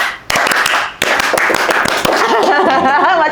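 Indonesian Pramuka scouts perform the rhythmic scout clap, sharp hand claps in a quick patterned sequence with brief pauses, close and loud, followed by voices chanting together.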